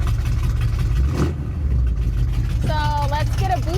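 A bare-metal Chevrolet Bel Air engine idles steadily after a cold start, a constant low rumble that fills the recording while a person talks over it.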